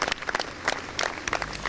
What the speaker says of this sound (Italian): parte l'applauso commosso di tanta gente che è assiepata qui fuori dalla questura